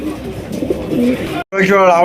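Pigeons coo softly beneath someone talking steadily nearby, the low throaty calls mixing with his voice.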